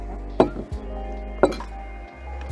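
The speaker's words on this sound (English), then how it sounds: "we'll take ice cubes" Ice cubes drop into a cocktail glass for a whisky sour, two bright clinks about a second apart over a low steady background hum.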